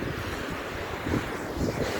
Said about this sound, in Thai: วันนี้ลมแรง มากเลยนะคะ